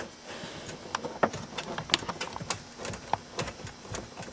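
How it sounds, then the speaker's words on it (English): A socket wrench or nut driver tightening a nut on a BMW 5 Series E39 amplifier install, heard as quiet, quick ratcheting clicks in an irregular stream, close but faint. "tighten it back down using our either your socket wrench or your nut driver like I'm doing here"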